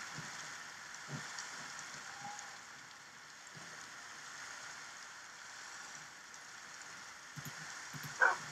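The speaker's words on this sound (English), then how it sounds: "It's raining." Steady Minecraft rain hiss fills the whole stretch, with a few soft thumps and a brief louder clatter near the end.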